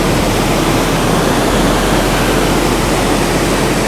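Black, polluted river water flowing and rushing steadily, a dense continuous wash of water noise with no break, loud and close.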